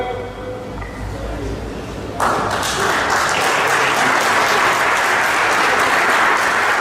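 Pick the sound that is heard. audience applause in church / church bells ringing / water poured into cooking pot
audience applause in church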